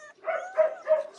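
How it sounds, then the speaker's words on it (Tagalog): Two-week-old puppies whimper and yip close by in three short, rising whines, soft and clear against an otherwise quiet background. "Alright, so ito yung mga tuta."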